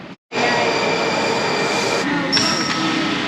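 A Washington DC Metro train rumbles loudly and steadily through a station, with a brief high whine rising near the end as it slows.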